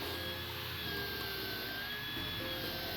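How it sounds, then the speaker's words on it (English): A power drill fitted with a long drill bit whines steadily at close range while drilling a table base, a continuous motor hum with a high tonal whine, no pauses and no voices. "Out comes the marathon drill bit."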